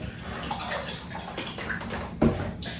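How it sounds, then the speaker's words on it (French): Milk is poured into mashed potatoes, a soft gurgling liquid trickle that runs for a few seconds and ends with a small splash near the end. "Et ensuite, vous venez mettre du lait."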